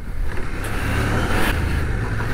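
A CF Moto 800MT adventure motorcycle riding off-road in second gear, its engine a steady, close, low drone with slight swells in throttle.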